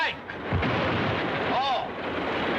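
A dynamite blast gives a deep, booming rumble that swells and lingers as a rolling roar, with voices briefly audible over it.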